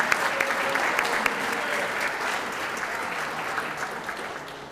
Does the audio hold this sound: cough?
no